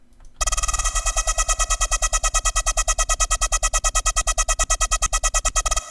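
A buzzy Serum synth bass drones on a steady pulsing rhythm, its tone sweeping slowly with a low-frequency phaser's whooshing swirl, loud and alone.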